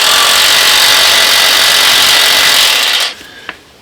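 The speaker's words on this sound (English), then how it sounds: "Maybe it's as much as this gun will let me tighten it." Power impact gun tightening U-bolts on a restored machine during blade install, a loud continuous buzzing rattle for about three seconds that cuts off abruptly, followed by a single small clack.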